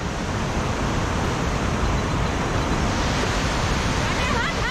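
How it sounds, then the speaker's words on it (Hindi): Fast, forceful flow of clean mountain river water near Manali, a loud, steady broadband rush filling the whole scene without pause, close to the microphone and with no voices over it. "यहाँ पे आप लोग देख सकते हैं पानी कितने फोर्स में आ रहा है"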